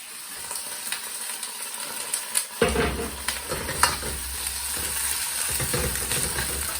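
Liquid hits a hot wok with a sudden loud sizzle as black bean sauce is brought to the boil, settling into steady bubbling and frying, with occasional stirring clatter.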